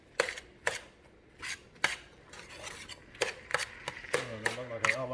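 A utensil stirs and scrapes a large batch of onions in a pan while a fireman's hamburger helper is being cooked. Sharp clinks and scrapes come in an uneven rhythm, faint and close, and a voice sounds briefly near the end.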